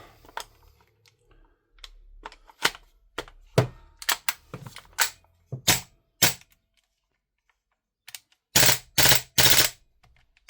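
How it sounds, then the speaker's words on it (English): A VMP-2S airsoft gun being dry fired, giving sharp, close mechanical clicks and snaps, first as scattered single shots and then as a quick burst of louder cracks near the end, with quiet gaps between. "I'm going to do a bit of dry fire."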